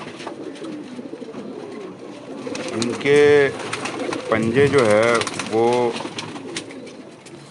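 Rare '79' pigeons at a fancier's loft coo in several throaty, warbling bursts, fairly close, while someone talks over and between the calls.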